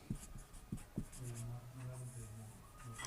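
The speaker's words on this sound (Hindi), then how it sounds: "मैं लिख देता हूँ" Chalk or marker writes on a board during a chemistry lesson, giving a few sharp scratchy strokes and taps, with a voice speaking over the middle part.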